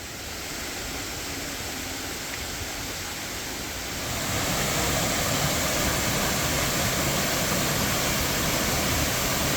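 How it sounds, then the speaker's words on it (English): Lomina Waterfall in Okatse Canyon, Georgia, pours into Lake Lomina with a steady broadband rush of falling water, loud and continuous, swelling noticeably partway through and holding at that level without any voices. "The waterfall gracefully cascades into Lake Lomina, creating a tranquil oasis amidst lush greenery."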